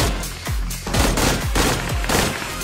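Bursts of automatic gunfire in Peacekeeper Elite, several rapid volleys in close succession with sharp repeated shots, loud and near, no talking.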